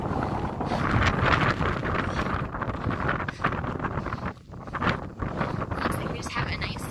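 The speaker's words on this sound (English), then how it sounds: "It's pretty windy up here." Strong wind buffets the microphone on an exposed mountain ridge near Tehachapi, a constant loud roar with gusting surges and brief dips, with no voices over it.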